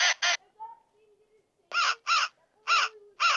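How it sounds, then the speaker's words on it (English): A camo walkie-talkie plays an electronic crow call, a series of loud, paired caws in quick bursts separated by short pauses, with faint low tones between them. "That's a crow call, I believe."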